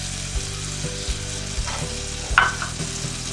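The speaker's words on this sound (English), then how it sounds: "we will add butter into our pan, and once the butter start melting, we will add some chopped garlic into it" Chopped garlic sizzles and fries in melting butter in a pan, a steady soft crackle broken by several light stirring knocks and scrapes.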